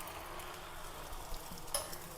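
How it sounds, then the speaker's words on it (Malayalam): Two large duck eggs fry in oil in a pan, giving a soft, steady sizzle with faint crackles, heard close and alone. "അത്യാവശ്യം നല്ല വലിയ താറാമുട്ട 2 ആക്കി വറുക്കാൻ വെച്ചു."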